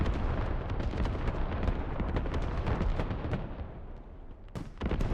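Rolling artillery barrage in the 100-player military shooter Squad, a dense run of heavy booming impacts and blasts rumbling continuously, loud and close, with a brief lull before another sharp burst.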